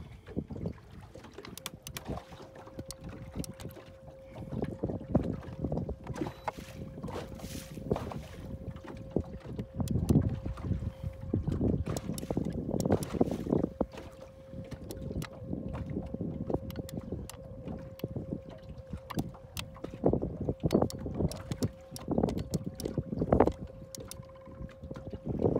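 Steady wind rushes and buffets the microphone aboard a small fishing boat on a Texas lake while crappie fishing, with water slapping the hull and a faint constant motor hum beneath, loud and continuous throughout.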